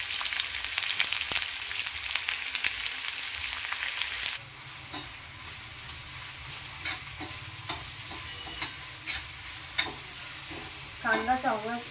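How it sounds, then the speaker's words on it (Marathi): Chopped onion sizzling in hot oil for a crab masala, with a loud, steady frying hiss that drops off partway through, followed by intermittent clacks of a spoon stirring in the pan. "आपण तेल टाकलं. आता हा कांदा गेला ह्याच्यामध्ये."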